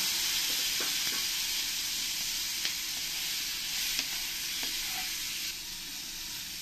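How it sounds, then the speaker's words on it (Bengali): Prawns tossed with turmeric and salt fry in a pan, a steady, dense hiss of sizzling oil throughout with a couple of faint clicks. "এবার এই চিংড়ি মাছগুলোকে আমি একটু ফ্রাই করে নেব।"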